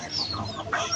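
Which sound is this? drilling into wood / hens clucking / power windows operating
hens clucking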